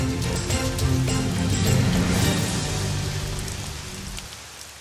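Rain begins falling, a dense close patter of drops on a surface that holds strong for several seconds and then gradually eases and thins toward the end, with no voices.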